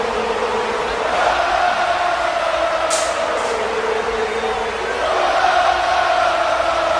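A wrestling arena crowd chants the Visionaires' song in unison, a loud, sustained sung drone of many voices filling the hall, with a brief higher shout partway through.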